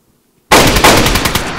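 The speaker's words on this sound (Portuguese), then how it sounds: "Foi os dois tiros de Blaze, mano." After a brief silence, a loud burst of rapid gunfire erupts suddenly and continues in quick successive shots, in the video game DayZ.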